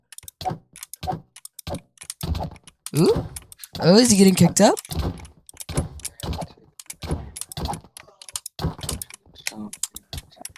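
Full-size computer keyboard clattering in quick bursts of keystrokes and thunks during PvP gaming, close and loud, while someone talks excitedly over the typing.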